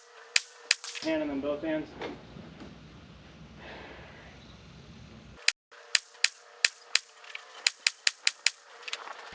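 Sharp .22 LR pistol shots on a shooting course, an initial pair then a rapid string of about ten cracks at uneven spacing, with a stretch of talk and background noise in between.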